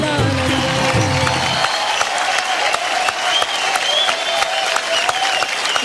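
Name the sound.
applause for a performance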